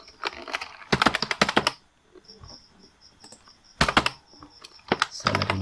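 Bursts of rapid typing on a computer keyboard, close and crisp, come in three separate clusters with quiet gaps between them, while a faint high steady chirp runs underneath.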